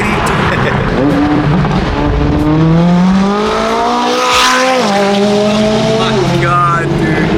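A BMW G80 M3 drives and accelerates, its engine note rising and falling loudly and continuously throughout, with brief tire squeal, heard up close from around the car.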